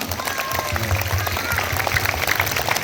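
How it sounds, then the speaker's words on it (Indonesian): Children clap together in a school orientation gathering at an elementary school, a steady dense patter of hands with a voice speaking over it. "tepuk tangan semuanya yang semangat"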